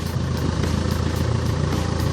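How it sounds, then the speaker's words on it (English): A black 2004 Kia Sorento LX idles with a steady, even engine hum and a low, constant rumble. No one speaks over it. "You can hear the sound of the engine,"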